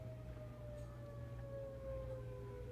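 Sirens wail in the Minecraft video game, a faint, steady, slowly falling tone over a low constant hum with no other sounds.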